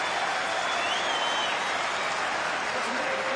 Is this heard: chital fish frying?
no